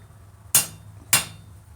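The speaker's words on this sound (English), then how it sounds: "And hammer the high spot." Hammer blows land on hot metal at a forge, two sharp ringing strikes about half a second apart, close and clear over a low background hum.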